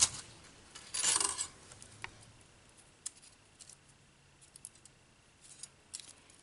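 Scissors snip through a die-cut paper piece, one clear burst of cutting near the start followed by a few faint ticks and rustles in an otherwise quiet room.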